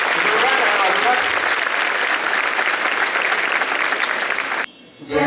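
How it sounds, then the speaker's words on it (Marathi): Loud, dense applause from a crowd at an Independence Day flag hoisting ceremony at an institute in Pune, sustained clapping that stops abruptly near the end. "जोरदार टाळ्या वाजवा."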